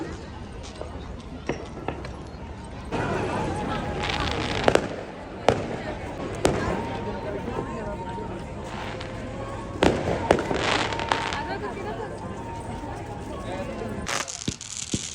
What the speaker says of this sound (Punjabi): ਇੱਥੇ ਪਟਾਕੇ ਚਲਾ ਸਕਦੇ ਆ ਆਪਾਂ ਤੇ ਸਾਰੇ ਨੂੰ ਇੱਥੇ ਪਟਾਕੇ ਚਲਾਏ ਜਾਂਦੇ ਆ